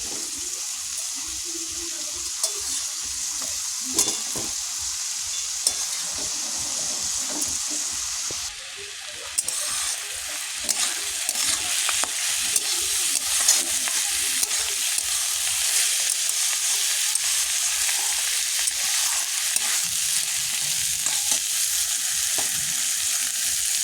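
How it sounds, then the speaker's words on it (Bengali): Soaked rice with bay leaves and dried chillies is stirred in hot oil in a pot, giving a loud, steady hiss with scraping stir sounds throughout. "ওইগুলোই দিয়ে একটু ভালো করে নাড়াচাড়া করে নেব"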